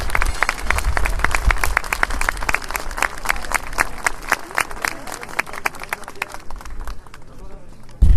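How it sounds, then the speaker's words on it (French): Loud applause with sharp individual claps rings out close by, continuing steadily before thinning out near the end. "Des applaudissements pour Maggie, s'il vous plaît."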